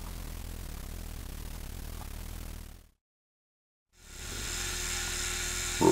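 A small metal lathe turns a workpiece in a home workshop, a steady broadband whirring hum that cuts off abruptly into a second of silence, then resumes with a higher-pitched whine.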